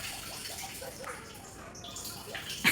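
Water from a motor pump pours steadily into a rooftop tank, a continuous splashing, gurgling rush heard up close with no voices over it, ending in a brief louder splash.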